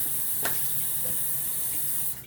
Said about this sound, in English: I'm just gonna go ahead and rinse my face quick